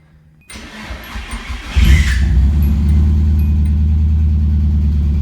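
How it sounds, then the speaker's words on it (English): A Nissan 240SX S13 with an SR20DET engine and a competition clutch cranks and fires up after a long layoff, then settles into a loud, steady idle with rattling transmission noise from inside, alone. "I think it's just the inside of the transmission making noise"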